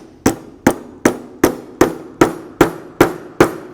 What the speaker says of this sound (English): take your hammer and just drive it in the rest of the way